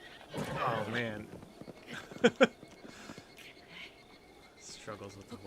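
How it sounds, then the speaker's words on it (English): A horse in The Legend of Zelda: Breath of the Wild gives a short neigh, followed by a couple of sharp hoof clops, with a person talking quietly over parts of it. "Struggles with the horse."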